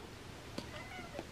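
Indoor kittens giving a couple of faint, short meows, the first around the middle and another near the end, over low room noise with no talk.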